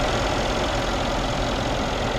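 A 5.5-liter twin-turbo V8 in a 2015 Mercedes-Benz S63 AMG Coupe idles up close with a steady, deep, even rumble and no break.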